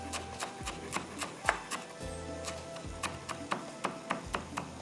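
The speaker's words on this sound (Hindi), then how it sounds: "हरी मिर्च, हरा धनिया जाएगा इसके अंदर चॉप करके, बिल्कुल बारीक बारीक चॉप करके" A knife finely chopping green chillies and fresh coriander on a board, quiet rapid taps in an uneven rhythm, close and soft, with no talk over it.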